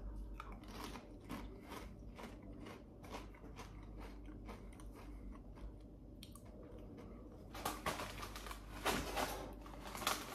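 Walkers ketchup flavour crisps being eaten up close, steady crunchy bites and chewing, quiet at first and louder toward the end.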